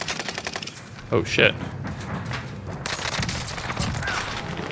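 Rapid bursts of gunfire crackle in a first-person shooter video game, with repeated shots and a louder burst near the middle, while someone talks over the action.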